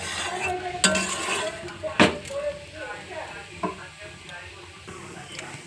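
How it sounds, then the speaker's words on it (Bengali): Egg chowmein with spices is stirred and mixed in a pan: scraping and clinking of a utensil against the pan over a light sizzle, with a few sharper knocks and some faint talk in the background. "এবার খুব ভালো করে নাড়াচাড়া করে চাউমিনটার সাথে এগুলো মিক্স"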